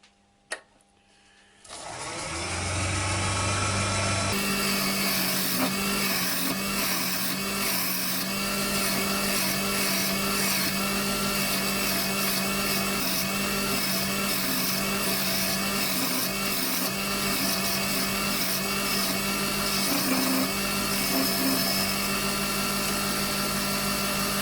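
A woodturning lathe spins up from quiet into a steady, loud motor whine as a gouge takes cuts along the radius of a shaped ash bowl, with a continuous hum and slight shifts of tone as the tool works.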